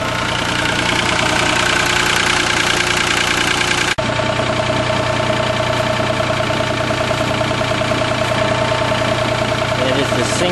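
A Howard Price 727 diesel mower engine sits idling close by, a steady, loud, knocking diesel chug with a rapid even rhythm; a sharp click interrupts briefly partway through before the idle carries on unchanged.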